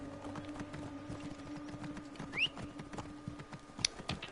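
Horse hooves clip-clop at a steady trotting rhythm in Assassin's Creed Origins, quiet and fairly close, with faint ambient game sounds and a couple of brief higher chirps behind them.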